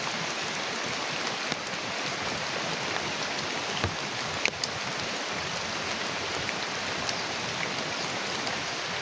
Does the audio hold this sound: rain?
yes